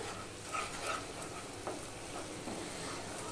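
A vegetarian papaya curry is stirred in a pan just after sugar goes in, soft scraping strokes over a faint ongoing sizzle, quiet and close, with no talking.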